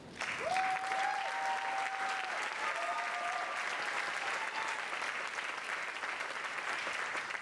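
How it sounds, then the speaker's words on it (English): An audience applauds steadily throughout after a junior musical performance, a dense wash of clapping with a faint whistle rising near the start. "Let's give it another round of applause to our actors."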